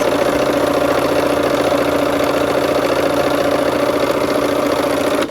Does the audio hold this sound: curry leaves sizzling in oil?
no